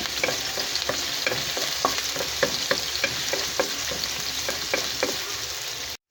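Garlic frying in a pan, a steady close sizzle with a run of regular scraping stir strokes and light clicks throughout, ending abruptly.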